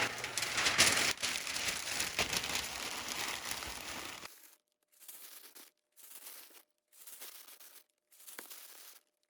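Packing paper is crumpled and stuffed into a box around a lamp with crystal prisms, first as a dense, continuous crinkling, then in four short separate bursts of rustling with pauses between.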